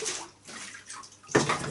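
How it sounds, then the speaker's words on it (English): Clean water splashes and swills around inside a plastic home-brew bucket for cider, a close sloshing rinse with a sharper surge near the end. "swilling it out then with clean water to make sure there's none of that"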